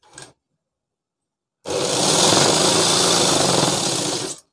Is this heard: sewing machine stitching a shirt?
yes